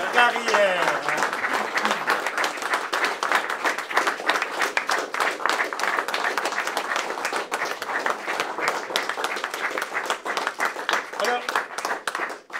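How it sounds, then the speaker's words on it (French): An award ceremony audience gives a standing ovation, dense sustained clapping from many hands filling the room, loud and continuous; a voice speaks briefly at the start before the applause takes over. "Est-ce qu'on peut faire une ovation, s'il vous plaît?"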